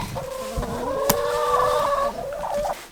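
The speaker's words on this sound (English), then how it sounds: "We're gonna go in and say hello to the chickens again." Hens clucking inside a winter chicken coop, a steady run of close, overlapping clucks and calls with one brief sharp peak midway and no talk.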